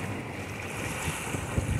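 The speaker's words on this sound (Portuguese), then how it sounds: "Tá aqui para vocês verem as águas aí, ó, entrando para as comportas" Heavy water rushing into open floodgates of a canal feeding the Castanhão reservoir, a constant loud roaring wash with wind buffeting the microphone throughout.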